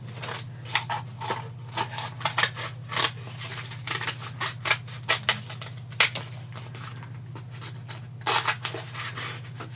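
Scissors snipping out pieces for a homemade Archimedes screw, a series of crisp close cuts in irregular clusters over a low steady hum.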